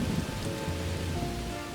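Steady rain patters and hisses across a surface with no thunderclaps, a dense, even wash of drops holding at a constant level for the whole stretch with no voices.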